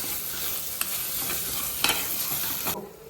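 Onions with ginger garlic paste sauté in a pan for a chicken thokku, a continuous close sizzle broken by a few sharp scrapes of the spatula against the pan, with no talking.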